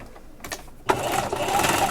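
A sewing machine starts stitching a scrunchie seam, a close, steady mechanical whir that kicks in sharply after a brief quiet stretch and runs evenly to the end.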